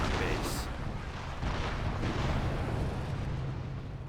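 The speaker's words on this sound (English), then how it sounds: "A blind barrage right there." Artillery barrage in the Company of Heroes game, a blind barrage of heavy shell blasts and rolling booms running back to back in a steady loud rumble, with a brief bright crack near the start.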